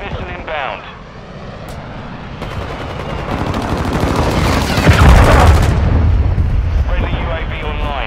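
Call of Duty Modern Warfare 2 multiplayer Domination match: a cruise missile strike sets off rumbling explosions amid bursts of rapid gunfire, building to a heavy blast around the middle and then settling into scattered shots.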